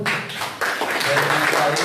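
Seminar audience of trade union members in Bogor breaking into applause, a dense patter of many hands clapping close by with voices mixed underneath.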